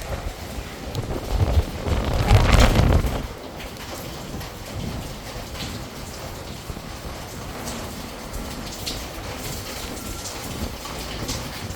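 Thunderstorm in Vientiane with wind and rain, a steady broadband roar of rain and gusts with a louder swell near the start, then a constant rushing wash throughout.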